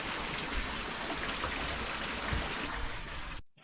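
Natural running water flows at Clear Creek hot spring, with hoses nearby; a steady, close rushing and trickling wash continues evenly, then cuts off abruptly near the end.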